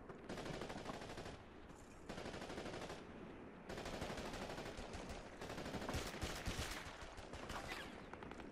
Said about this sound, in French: il y a une MJ-42 qui me tire dessus